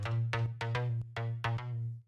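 A solo Native Instruments Monarch mono synth bass, pitched a fifth above the lower layer, plays a short sequence of about six plucked notes, each with a bright, buzzy attack over a sustained low tone.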